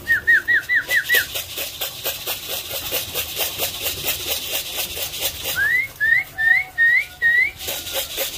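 A person whistles in short rising chirps, first six quick ones then five louder ones, over a steady rhythmic rattle of a small plastic coffee can being shaken at feeding time, close by.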